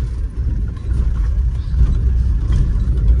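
A vehicle rolls slowly along a rough road in first gear, its steady low engine drone and road rumble continuous and close throughout, with no talk.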